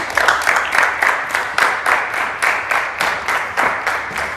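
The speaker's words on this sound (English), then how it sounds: "please, a round of applause for Dr. Abiodun." An audience claps for Dr. Abiodun at a health talk. The applause comes in steady, rhythmic bursts roughly twice a second, fairly loud and close.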